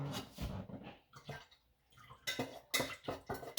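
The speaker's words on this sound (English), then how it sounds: "Let's pour our oil inside." Fragrance oil is poured into melted soy candle wax in a container, giving soft liquid trickles and splashes in uneven bursts with small clinks, close by in a quiet room.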